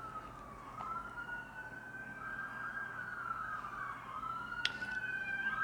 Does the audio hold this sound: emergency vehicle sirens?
yes